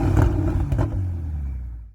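A Ferrari 488 Pista engine fires up with a loud, deep roar that settles into a heavy, rumbling idle close by, then cuts off abruptly near the end.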